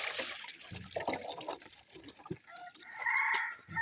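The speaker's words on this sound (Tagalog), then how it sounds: "Ano ba yung chicken naman" A chicken clucks and crows nearby, its calls standing out over splashing water and outdoor background noise.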